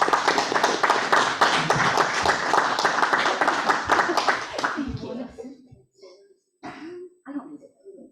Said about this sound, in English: let's give her some nice round of applause